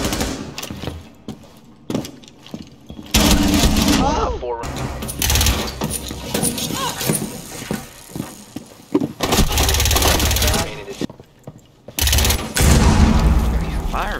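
Automatic gunfire in the tactical shooter Rainbow Six Siege, loud close bursts repeating in several long stretches, broken by short quiet gaps, with players talking over and between the shots.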